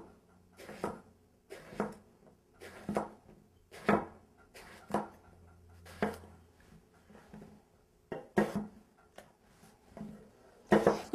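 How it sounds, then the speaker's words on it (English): Knife cutting graffiti eggplant into half-inch slices on a board, about a dozen soft, irregular chops and thuds, close and quiet, with brief pauses between cuts. "I'm just going to cut the eggplant into half-inch slices."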